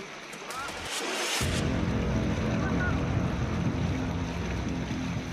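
Flood water rushes powerfully through a large drain in Badlapur, Maharashtra, a steady loud broadband roar that swells after a brief quieter opening and carries on unbroken.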